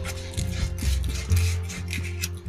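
Fountain pen barrels being roughed up by hand in a home attic workshop, a steady close scraping and rasping rub that runs continuously for a couple of seconds with no talk.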